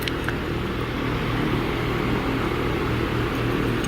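A fan runs steadily in a hot motorcycle restoration workshop, a constant broadband whoosh with a low hum, close and even throughout with no talking.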